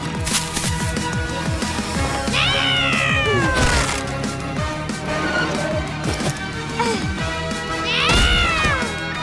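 A large black cat meows twice, drawn-out and plaintive, amid close thumps and rustling handling noises, with a few softer sounds in between.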